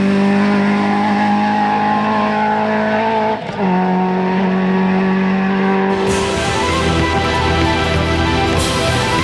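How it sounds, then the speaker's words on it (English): Rear-wheel drive Ford Escort rally car at a stages rally in Cavan, its engine roaring loud and steady throughout with gear changes and revving, briefly dipping before surging on again. "And Paddy O'Reilly from Castle Blaney is out to entertain his local fans in his rear-wheel drive Escort."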